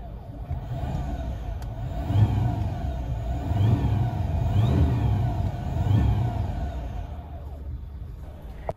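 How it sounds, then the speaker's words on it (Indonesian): A Mazda CX-80 on an out-of-town test drive in EV-only mode, its electric motor giving a rising and falling whine that swells and eases several times over the steady road rumble inside the cabin. "Itu kayaknya suara putaran dinamo atau motor listriknya gitu ya"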